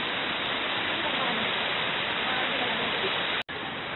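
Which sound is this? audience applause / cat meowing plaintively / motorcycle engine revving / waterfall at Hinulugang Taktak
waterfall at Hinulugang Taktak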